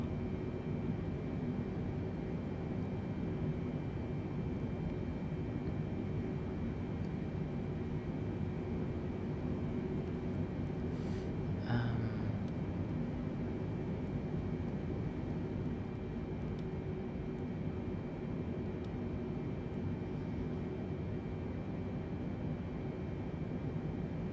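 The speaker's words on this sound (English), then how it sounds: "I'm running engines at 40, which is just stabilized before the departure setting, while taxiing, because it's so slow." Airliner engines in Microsoft Flight Simulator, held at a low stabilized setting while taxiing slowly: a steady, even broadband roar with a faint constant whine, unchanging throughout with one brief click partway, no talking.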